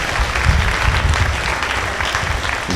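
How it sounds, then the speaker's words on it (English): An audience at a talk on liability insurance for pharmacists applauds, with steady dense clapping that holds for the whole stretch. "Can we have another round of applause"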